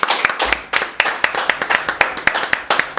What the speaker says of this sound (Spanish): No sin antes darle un aplauso aquí al maestro Paco Barrios, por favor.